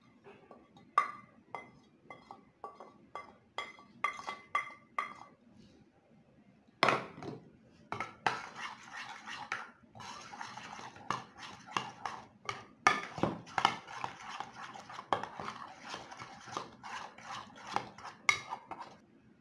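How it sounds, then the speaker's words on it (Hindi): Spices and soy sauce mixed in a bowl for a Lahori chargha chicken marinade: repeated close clinks and scrapes of a spoon against the bowl, in short bursts and then a steadier stretch of stirring. "ये सब इसमें शामिल करेंगे और अच्छी तरह से मिक्स कर देंगे"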